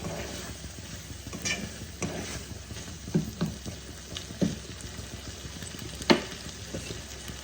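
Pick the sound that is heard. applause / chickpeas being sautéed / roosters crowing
chickpeas being sautéed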